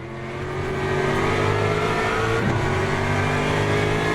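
A GT3 race car engine drones steadily in the Le Mans Ultimate racing simulator, holding a fairly constant pitch with a slight rise, loud and alone with no voices.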